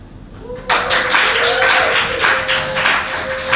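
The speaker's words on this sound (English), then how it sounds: "By way of applause, who thinks that Dr. Robbie the Scientologist did the murder?" Audience members at a British Bake Off themed murder mystery comedy show clap to cast a vote, a burst of dense applause that starts suddenly and carries on evenly for about three seconds, with a voice briefly audible over it.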